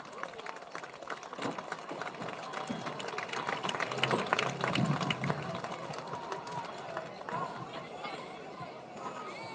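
At a high school football game, Walnut Hills at Turpin in Ohio, the crowd gives a round of applause for senior players and their families, a sustained wash of clapping and chatter that swells in the middle, heard from the broadcast booth.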